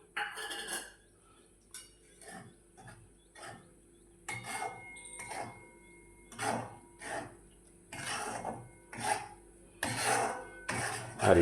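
A spoon scrapes and stirs amaranth flour roasting in ghee in a pan, in repeated short scraping strokes with light metallic clinks, close and fairly quiet.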